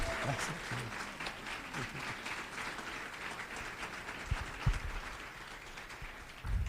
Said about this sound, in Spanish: Les pido de verdad un aplauso para Cris, que es la dueña de este asunto.